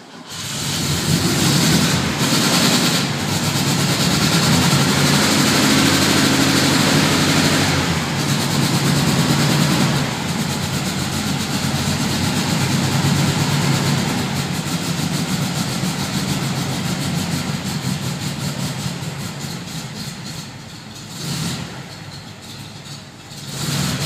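The engine of a 1972 Fastback with a fuel-injection problem runs rough and struggles to idle, a loud, continuous uneven rumble with a few brief dips before it sags and fades near the end.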